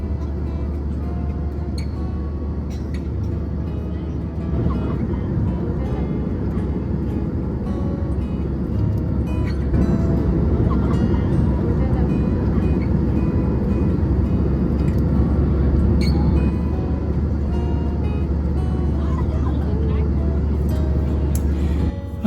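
Steady, dense airliner cabin drone during an evening flight from Beijing toward Hong Kong, a constant low roar with a heavy low hum that holds unchanged throughout, with no clear speech over it.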